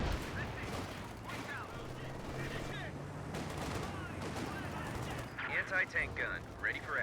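A volley of gunfire in a World War II strategy game battle, with bursts of rifle and machine-gun fire and distant explosions over a steady background of battle noise, while a commentator talks over it.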